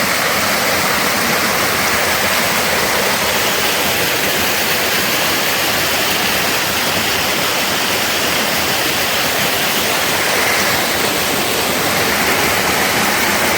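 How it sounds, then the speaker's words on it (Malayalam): A waterfall at Vagamon roars steadily and loudly from close by, a dense unbroken rush of falling water with no voices. "അവസാനം നമ്മൾ വെള്ളച്ചാട്ടത്തിൽ എത്തിയിരിക്കുന്നു"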